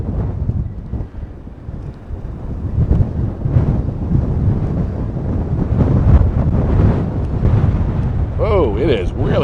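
Strong wind buffets the microphone outdoors on county property, a loud continuous rushing roar with gusty swells throughout.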